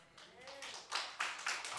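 A church congregation claps in praise at a dawn worship service, a burst of several loud, sharp claps building over a couple of seconds after a faint held voice.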